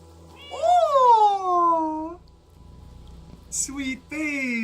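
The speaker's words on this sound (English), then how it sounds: "Press circle to meow." A video game cat meows in a long, rising-then-falling cry with a faint steady hum under it, then a few shorter chirpy mews follow after a brief pause.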